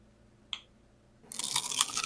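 Close-up bite into a fresh raw onion: a sharp snap, a short pause, then loud, crisp, wet crunching as it is chewed, with no talking.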